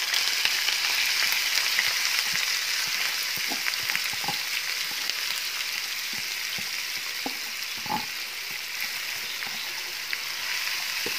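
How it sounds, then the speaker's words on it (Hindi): Two large chopped onions fry in oil in a pan, a steady bright sizzle with occasional pops and soft stirring clicks, close and continuous with no talking. "इसमें मैं 2 बड़े साइज के चॉप किए हुए प्याज डाल दूंगी"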